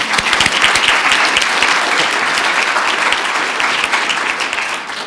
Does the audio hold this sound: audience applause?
yes